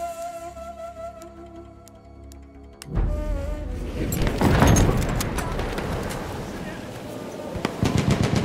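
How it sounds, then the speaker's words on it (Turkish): Machine gun fire in Battlefield 1: after a calmer stretch, rapid automatic bursts and heavy battlefield shooting break out loudly and keep going, with voices talking under the gunfire. "Orada bir makine tüfek var."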